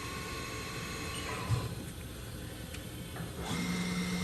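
The spindle of a 2003 Haas VF-3B CNC mill spins up toward 2500 RPM, shifting gears on the way, giving a faint, steady mechanical whine whose tone changes partway through and again near the end.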